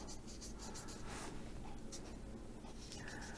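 Marker nib of an Arteza TwiMarker, a water-based watercolor pen, scratching and scribbling across watercolor paper, a close, soft, continuous scratchy rustle over steady low room hum with no talking.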